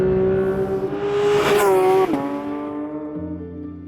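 Porsche 992.2 GT3 engine howling loud and near, rising to a high-revving peak, then the pitch drops sharply as it shifts and settles into a lower steady drone.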